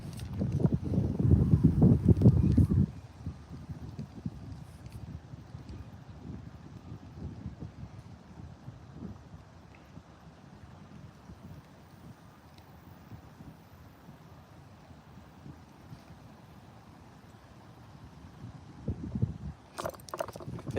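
Gusty wind buffets the microphone while bass fishing from a boat, a loud rushing burst at the start easing to a steady low roar before swelling again near the end.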